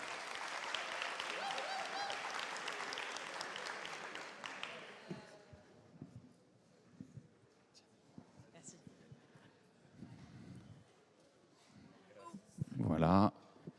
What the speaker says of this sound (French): Donc je vais inviter à me rejoindre sous vos applaudissements.